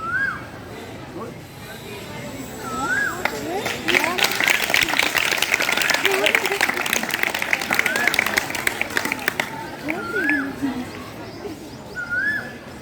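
Audience applause after a magic trick at a school show, a burst of clapping in the middle that rises and fades, with voices and bird calls around it.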